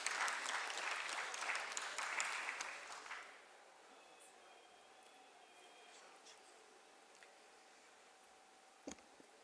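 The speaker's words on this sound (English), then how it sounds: "With a thunderous round of applause, let's welcome him." Conference audience applauding to welcome a speaker at an international investment event, clapping fairly loud and dense for about three seconds before fading abruptly into near silence with a faint tone.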